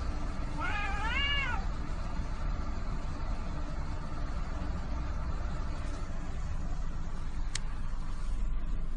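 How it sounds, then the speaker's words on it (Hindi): A single drawn-out cat meow near the start, wavering in pitch, over a constant low engine-like rumble that continues afterward. "सुनो बिल्ली खुद कह रही है"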